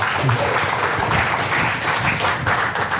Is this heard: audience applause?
yes